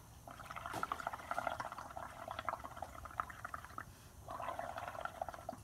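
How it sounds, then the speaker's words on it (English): Air blown through a straw into a cup of ink for bubble art, a steady low bubbling gurgle that runs on and off in two stretches, fairly quiet and close, with no voices. "I think I'm going to blow a few more bubbles before I print."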